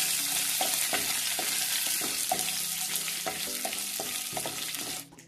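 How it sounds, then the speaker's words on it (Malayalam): Chana dal, urad dal, dried red chillies and curry leaves fry in hot oil for masala dosa filling, giving a steady close sizzle with occasional stirring clinks before it cuts off. "അതിൻ്റെ കൂടെ 1 ടീസ്പൂൺ ഉഴുന്ന്, 3 വറ്റൽമുളക്, കുറച്ച് കറിവേപ്പിലയും ചേർത്ത് ഒന്ന് മൂപ്പിച്ചെടുക്കാം."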